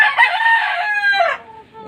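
A rooster crows once, loud and close, a long strained call that trails off into quiet.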